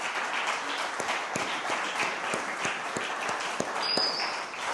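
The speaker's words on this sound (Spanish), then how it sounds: "denle un aplauso, Señor" A church congregation claps for several seconds, a steady, moderately loud ripple of hands with a few sharper individual claps standing out and no talk over it.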